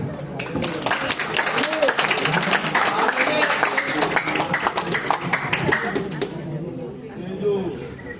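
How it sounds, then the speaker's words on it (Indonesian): An audience at a Quran quiz final in Palembang breaks into sustained applause, a dense wash of clapping with crowd chatter underneath that tapers off toward the end. "Tepuk tangan."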